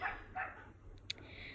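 A dog barks twice in quick succession, fairly faint and somewhat distant in a quiet room, followed by a sharp click and low background hiss.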